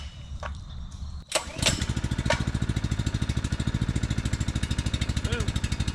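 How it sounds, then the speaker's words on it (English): A small gasoline engine on a duck impoundment setup is pulled and started slightly off idle. After a brief rattle it catches within a second and settles into a fast, steady chugging idle, close by. "I don't start it at wide open, I take it a little off idle to start it."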